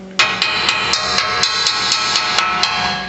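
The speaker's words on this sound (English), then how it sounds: "So I'll just tap all around it, and you can see it, and then all your rust pops off." A hammer taps rust off the metal of a John Deere 785, striking about ten times in a steady rhythm with bright, ringing metallic hits, loud and close, with no talking.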